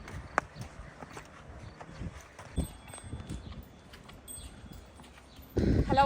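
A horse walks along a road, its hooves clip-clopping in an irregular rhythm at moderate distance, with other faint outdoor noises and a louder rustle near the end.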